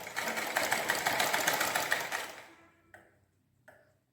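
A sewing machine runs steadily stitching fabric at a tailoring class for about two and a half seconds, then winds down and stops, followed by two short, fainter bursts of stitching.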